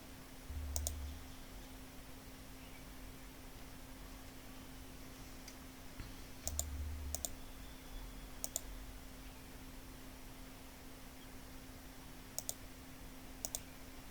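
Mouse clicks while working in Microsoft Word, with about eight sharp, isolated clicks spaced irregularly over a faint steady hum, close but quiet, no voices.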